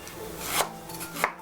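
A knife slices young ginger as thinly as possible on a board, giving a few crisp, close chopping strokes with soft rubbing in between, and no one talks.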